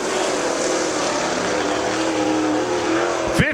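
A Super Late Model race car at Dixie Speedway runs a qualifying lap, its engine a loud, sustained roar that shifts in pitch slightly as it passes, ending in a brief sharp rise.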